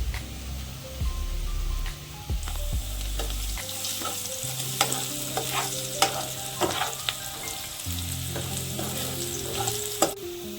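Curry frying in a pan, with a steady sizzle broken by scraping stirs and clinks of a spoon against the metal, close and fairly loud throughout.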